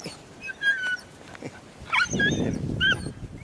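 Farm guard dogs named Queen, Jack and King whimper close by in a short run of high, thin whines and yips, with a louder cluster of whining near the end over soft rustling.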